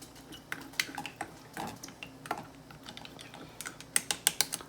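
Plastic debubbling tool tapping and clicking against glass canning jars packed with green beans, a scattering of irregular sharp light ticks, some quick bursts, fairly quiet over a soft background.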